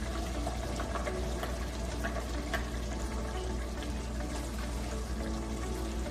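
Sauce with green onions and red pepper flakes bubbles steadily in a pot, a continuous fizzing, liquid simmer at even loudness with no talking over it.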